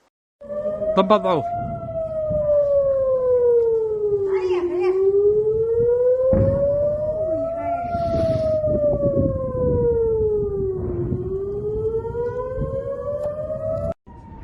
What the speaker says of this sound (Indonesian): Sirine juga terus meraung